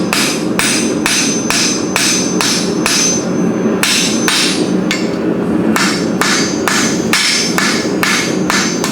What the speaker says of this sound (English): Use a small hammer, unless you just really go with a big hammer,